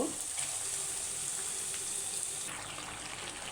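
Beef pieces go into spices sizzling in hot oil for a beef biryani, giving a steady frying hiss that carries through the clip with a brief clatter of stirring, no voices present.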